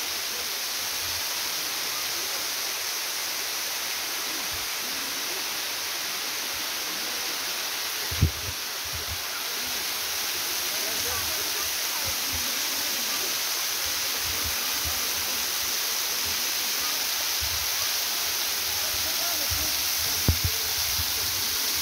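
The Geliyê Godernê waterfall roars in a steady, dense rush of white noise, constant throughout, with a few faint thumps underneath.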